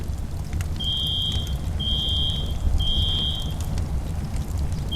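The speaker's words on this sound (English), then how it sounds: "I'll try and see if we can turn the alarm off" Fire alarm in a FiveM GTA V roleplay fire: three evenly spaced high electronic beeps sound over a low rumble of wind and background noise, with no talk.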